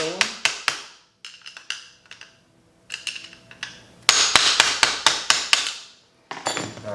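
A screwdriver tip is struck into the slots of a spring adjuster nut on a Honda Talon 1000X UTV's shock, giving sharp metallic clinks in rapid bursts of several hits with brief pauses, close and loud.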